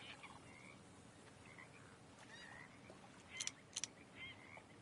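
A toad croaks in a wild outdoor scene within Red Dead Redemption 2, several short, fairly faint croaks rising near the end over a steady soft ambient wash.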